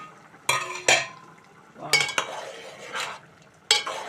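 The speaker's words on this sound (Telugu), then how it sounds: "ఇప్పుడు పప్పు గుత్తితోటి మెత్తగా దీన్ని చక్కగా మెత్తగా రుబ్బుకొని" Cooked toor dal mashed in a pot with a wooden dal masher, a series of soft wet thuds and scraping clacks in irregular bursts, with quiet squelching between strikes and no talking.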